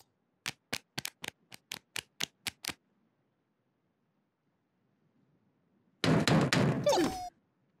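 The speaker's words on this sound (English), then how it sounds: "It's somebody at the door." A run of about ten sharp, evenly spaced knocks at a door in a children's show, loud and close, followed by quiet and then a brief burst of mechanical clatter and noise.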